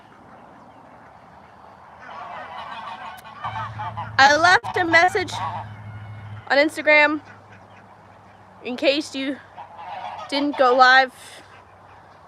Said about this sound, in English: you guys can hear the geese in the background